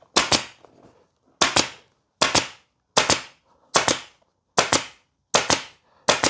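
Pneumatic upholstery staple gun firing into a foam cushion: eight sharp, loud, evenly spaced snaps, each a quick double crack with a short decay, alone with no talk.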